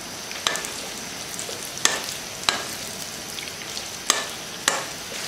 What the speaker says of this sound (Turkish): Şimdi sarımsak ve soğan kavrulmaya devam ediyor